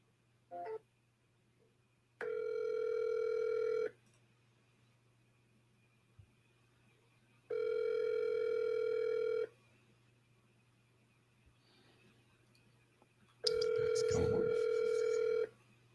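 An outgoing telephone call: a brief click, then three long, even ringback tones spaced several seconds apart, with quiet line hiss between them.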